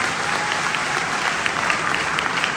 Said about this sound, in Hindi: एक बार जोरदार ताली इंडियन आर्मी के लिए।